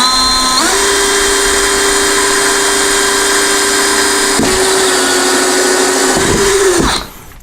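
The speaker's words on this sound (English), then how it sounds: "But once it gets down to the hole saw, it chews right through it." A power drill runs loud and steady with a hole saw grinding through material, the pitch dipping under load, then cutting off abruptly near the end.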